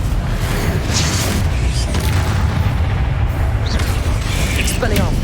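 Confringo fire-blast spell explosions in Hogwarts Legacy, a steady barrage of loud, dense booms and crackling blasts filling the whole stretch, with no gaps between the detonations.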